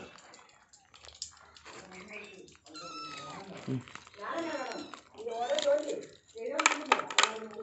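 A cat meows several times, drawn-out and rising, close by, with a person talking around and between the calls.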